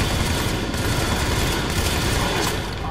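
Sustained suppressing gunfire in The Division, a dense, continuous rattle of rapid shots with heavy low-end rumble, loud and unbroken throughout.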